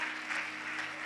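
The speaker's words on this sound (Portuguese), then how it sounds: "Agora, não, você pode aplaudir." A church congregation at a Tuesday service claps together in a brief, steady wash of applause that fills the room at moderate volume.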